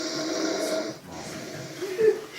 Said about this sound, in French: C'est insupportable ces ronflements.